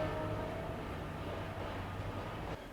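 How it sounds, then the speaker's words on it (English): A train rumbles past at a distance, a steady low drone with faint metallic squeal running throughout before the noise drops off near the end. "Let's wait for the train to pass."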